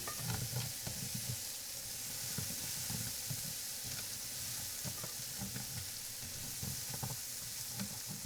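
Scallion whites sizzle in a hot pan on medium-low heat, a steady close frying hiss with soft crackles and light stirring throughout.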